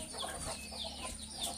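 Aseel chickens on a Kerala poultry farm, with soft, scattered clucks and fowl calls at close range over a steady background hum, with no voices.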